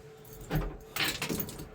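Jingling bursts of Mercury outboard keys, handled up close on a 33-foot CSF Crevalle V10 boat, arrive in two short bright clusters with no talk.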